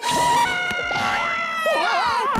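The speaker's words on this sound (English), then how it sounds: "The scream screen always surprises Goo." A cartoon monster screams from a scream screen in a children's math cartoon, a loud, wavering, shrill wail with sliding pitch that runs for a couple of seconds.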